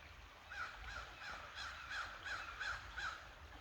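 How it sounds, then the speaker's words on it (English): Crows caw in a steady series of about eight calls, evenly spaced, over a constant hiss of background noise, fairly distant and moderately loud. "The crows are assisting once again."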